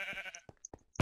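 Short sheep bleats from a video game's farm animals, a couple of brief quiet calls with a sharper burst at the end.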